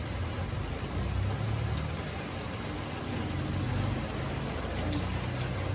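Dense, steady rain patters on a carport roof nearby, a constant hiss-like roar with occasional sharper drips, no speech.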